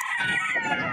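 A sweater gray gamefowl stag crows faintly amid the busy hubbub of a pet market, the drawn-out call blending with background noise.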